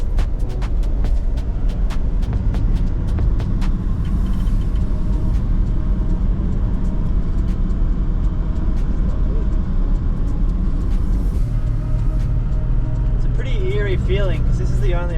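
A car drives steadily along the only road through Northern Australian wilderness near bushfire smoke, giving a constant loud engine and road rumble throughout, with people talking over it.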